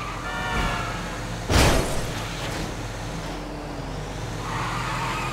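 A small battery-powered car driven in Grand Theft Auto 5, its engine humming steadily with a loud burst of tire skid or impact in the middle, then settling back into the drone.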